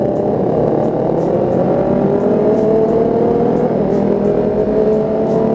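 A Kawasaki ZX25R motorcycle engine runs at high revs, a loud steady whine that climbs gradually in pitch across the whole stretch, with no pauses and no talk.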